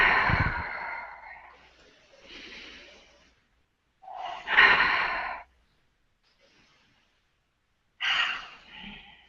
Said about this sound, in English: take a couple of very deep breaths